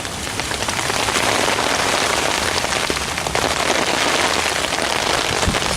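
Steady rain patters on a tarp shelter and the ground at a wild camp, a dense, continuous hiss of drops close around a person sitting under the basher, with no talking.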